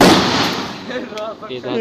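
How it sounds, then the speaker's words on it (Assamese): A wedding firecracker blast ends in a loud, close burst whose rumble fades over about a second, then a voice starts talking. "এতিয়া আমি বোমা মাৰিব পুৰা ৰেডি"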